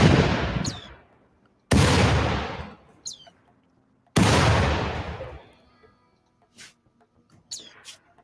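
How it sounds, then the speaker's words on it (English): Loud, booming turret shots in the video game Rimworld come in three heavy blasts a couple of seconds apart, each fading into a long rumbling tail, with small chirps and clicks scattered between them. "So they were actually able to outlast this turret's firing."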